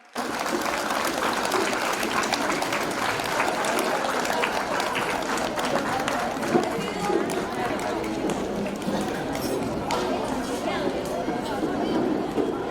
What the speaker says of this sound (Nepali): सबैले ताली पिटेर सहयोग गर्नुहोला।